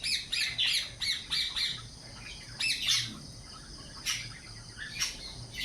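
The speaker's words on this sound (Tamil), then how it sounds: "காலையிலே எல்லா பேர்ட்ஸுமே இங்கே வரும்." Morning birds, among them green parrots, squawk and chirp in repeated harsh calls, some near and loud, others fainter, over a quiet outdoor background with no talk.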